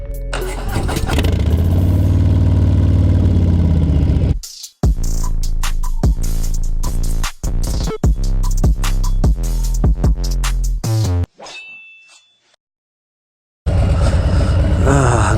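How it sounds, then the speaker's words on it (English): A motorcycle fitted with a Whiplash Slipstream seat, and low on fuel, starts and revs in loud, close bursts of engine sound, falls silent briefly, then picks back up again. "let's take the bike for a spin"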